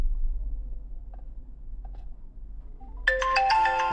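An Oraimo Watch 5 smartwatch sounds an incoming-call ringtone: after about three seconds of near silence, a bright, loud melodic tone sequence starts abruptly and keeps ringing to the end.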